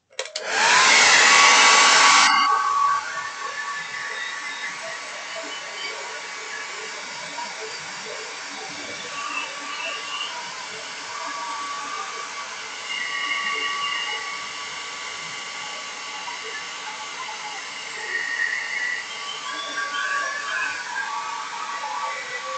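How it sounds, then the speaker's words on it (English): A hair dryer blasts loud and close for about two seconds while drying a painting of three sunflowers, then cuts off, leaving only a quiet room. "We gotta blow dry it."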